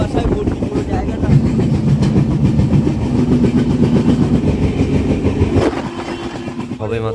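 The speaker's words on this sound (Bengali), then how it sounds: "সবে মাত্র আমাদের ট্রেনটা পুরীতে ঢুকলো" A passenger train pulling into Puri station in the early morning, its steady rumble and rolling wheel noise loud and continuous before easing slightly near the end, with no speech heard.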